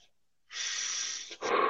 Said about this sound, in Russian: Закрывай глазки, давай подыши.